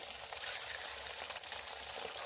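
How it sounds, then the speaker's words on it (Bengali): Homemade kurkure pieces made from flattened rice and puffed rice fry in hot oil over a low-to-medium gas flame, giving a steady, dense crackling sizzle with no voices. "এই সময় গ্যাসের ফ্লেমটাকে লো টু মিডিয়ামে রেখে এক এক করে কুরকুরেগুলো সব ছেড়ে দেবো"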